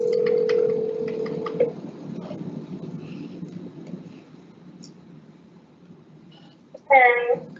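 A telephone dial tone during a call placed into a board of education meeting: a steady single tone for about a second and a half, followed by quiet room noise and a brief voice near the end.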